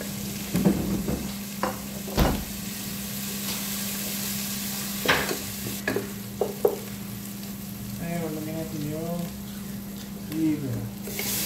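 Garlic and onion frying in a pan for beef liver curry, a steady close sizzle with occasional scraping stirs, while a voice talks briefly over it.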